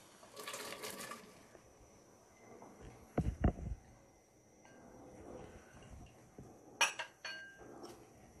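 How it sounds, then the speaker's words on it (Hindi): Carrots dropped into a pot of boiling water for carrot pineapple murabba, soft splashes and a few clinks of utensil against the pot over a faint bubbling background, fairly quiet and close. "पानी बॉईल हो चुका है, अब इसमें गाजर डाल देंगे।"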